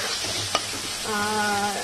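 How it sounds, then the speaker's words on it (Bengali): Prawns fry lightly in a pan, a close, even sizzle with a brief scrape of stirring partway through and a faint tonal hum in the background. "এবার চিংড়ি মাছটাকে একটুখানি হালকা ভেজে নেবো"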